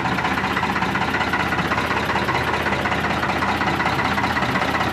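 A tractor engine runs steadily nearby in a field, used for spraying herbicide on a groundnut crop, a loud continuous mechanical rumble with a rapid knocking throb and no pauses.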